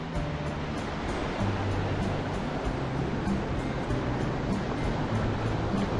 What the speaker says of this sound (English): So we'll wait for this wave to come.